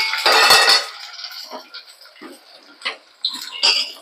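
A metal lid clanks onto a cooking pot of drumstick and carrot sambar, one loud close clatter followed by a few lighter clinks and taps as it settles.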